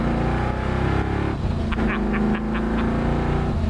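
A 1965 Ford Mustang GT350 R recreation engine revs and drones nearby, its steady throaty roar rising and easing with no talking.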